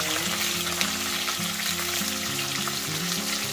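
Dried red chillies sauté in a hot pan over medium flame, giving a loud, continuous sizzle and crackle with a low steady hum underneath.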